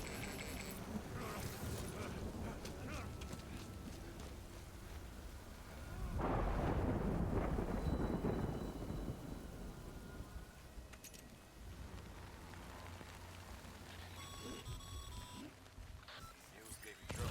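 Rain and thunder in the video game Death Stranding: a steady hiss of rainfall with a heavy rumbling thunder roll swelling in the middle, someone talking over it, and a few electronic game beeps near the end.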